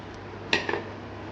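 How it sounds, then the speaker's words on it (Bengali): Mango pickle being mixed with oil, spices and red chillies in a kitchen: one sharp utensil knock against a pot, then two lighter scrapes, close and brief, with no talking. "আমি এইভাবে পুরো আমটা মশলার সাথে মেখে নেব"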